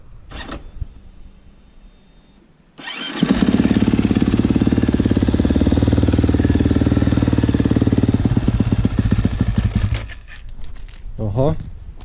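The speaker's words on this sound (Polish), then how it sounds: "Silniczek włożony, nowy cylinder, nowy tłoczek. Łowica po remoncie. Patrzcie, jak odpala." Rebuilt motorcycle engine with a new cylinder and piston fires up abruptly and runs loud and close with a fast, rough, steady beat for several seconds, then cuts out; brief voices before and after.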